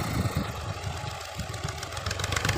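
A 2012 Al Ghazi tractor engine runs at a steady idle with a rough, knocking diesel rumble throughout, moderately close and without a break.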